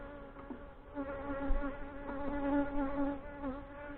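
Honey bees buzz close by during a summer inspection of a backyard hive, a dense, steady drone with shifting pitch that swells and dips over a few seconds, with no talk.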